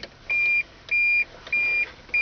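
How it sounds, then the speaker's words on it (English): A Toyota Hilux warning buzzer beeps four times in an even rhythm, each tone about a third of a second long, clear and steady against a quiet cabin. "Let that buzzer turn off."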